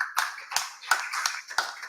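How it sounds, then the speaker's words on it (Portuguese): A church congregation claps in bursts of sharp, rhythmic hand claps at a memorial service, moderately loud in a reverberant room, with no voices over them. "Uma salva de palmas para Jesus."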